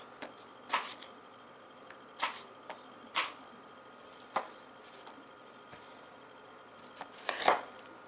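Knife work on potatoes for hot Cheeto potato cheese balls: a few sharp, separate clacks of a blade on a cutting board and pieces dropping into a bowl, spaced out over a quiet kitchen background, no talking.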